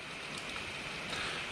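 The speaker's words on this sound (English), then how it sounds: "It's raining." Steady, even hiss of rain falling, with no voices and no other distinct sounds.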